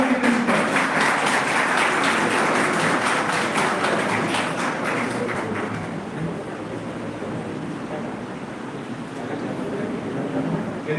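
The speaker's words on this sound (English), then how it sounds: "Please give a big round of applause to our working principal." Audience at a college technical session applauding the working principal, a sustained wash of many hands clapping, loud at first and then easing slightly while continuing to the end.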